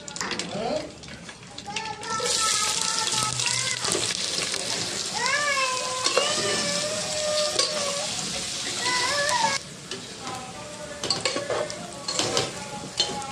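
Bay leaf and ground spices frying in hot oil in a pan for a duck curry, a steady loud sizzle with stirring scrapes throughout, while a person talks over it.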